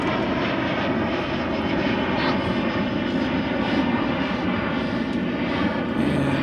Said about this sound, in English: Omega Trucking says we got a 777 on final from Roma.